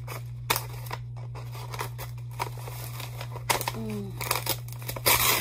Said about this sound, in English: I'm gonna have to tear it.